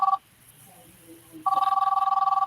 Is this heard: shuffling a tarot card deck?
no